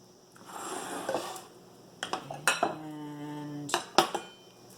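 Mixing bowls clinking and scraping against a kitchen counter while making cookie dough, a few distinct sharp knocks and a ringing clatter, close by with no speech.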